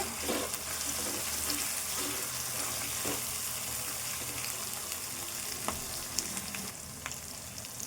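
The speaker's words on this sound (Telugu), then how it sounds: "ఉల్లిపాయ వేగాలి." Onions fry in a pan for masala egg curry, a steady, fairly soft hiss of sizzling oil running throughout with a few faint clicks from stirring.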